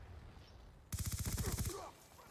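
Rapid burst of automatic gunfire from a teammate in Black Ops 2, a loud fast string of about a dozen shots lasting under a second, after a quiet stretch and followed by fading game noise.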